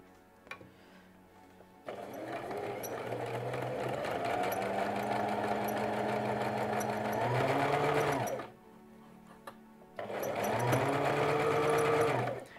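A sewing machine stitches fabric in two long continuous runs, its motor whirring and the needle chattering up close, with a brief quiet pause between the runs and no talking.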